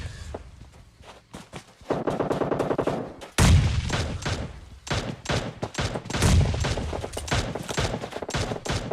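Gunfire in a battle royale video game, with sharp rapid shots and bursts of automatic fire mixed with footsteps, loud close cracks around the middle and scattered shots continuing to the end.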